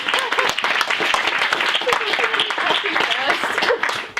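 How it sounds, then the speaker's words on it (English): An audience applauds steadily, a dense wash of clapping that holds at a constant level from start to finish. "you can clap that again"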